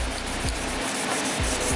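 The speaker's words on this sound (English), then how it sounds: "Just gonna get it wet, sand it down." Steady, scratchy rubbing of wet sandpaper strokes on a car headlight, close and continuous, with a faint swishing rhythm as the strokes change direction.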